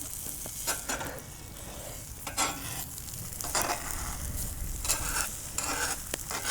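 Eggs sizzle steadily in a hot Lodge carbon steel skillet over a strong flame, a close, constant frying hiss broken by soft stirring scrapes.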